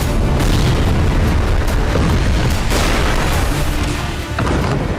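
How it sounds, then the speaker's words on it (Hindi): Missile and glide bomb strikes from an Israeli air raid on Lebanon, carried in a news report, give a loud, dense, continuous rumble of blasts with little break. "घातक मिसाइलों और ग्लाइड बमों के हमलों से धरती को दहलाया"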